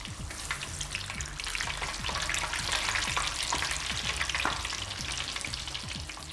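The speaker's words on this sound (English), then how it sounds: "It's ready now to go in the deep fryer" A butterflied king prawn deep frying in hot oil, a dense, steady sizzle and crackle with scattered pops, close and even throughout.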